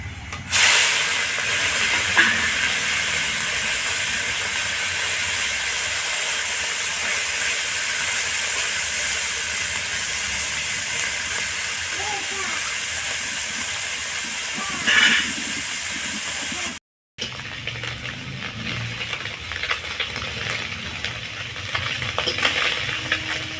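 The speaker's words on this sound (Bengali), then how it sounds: "তেল গরম হয়ে গেছে মাছগুলোকে ভেজে নেব" Fish frying in hot oil in a home kitchen for a spicy fish curry, a loud continuous sizzle and hiss that runs unbroken for most of the time, cuts out briefly, then returns slightly quieter; no voices.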